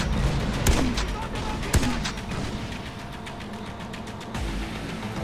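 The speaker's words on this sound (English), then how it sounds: "This looks like a grenade launcher." Explosive booms and gunfire from a grenade launcher in the video game Far Cry 4, with two sharp blasts early on and a later thump over a busy, rumbling battle backdrop.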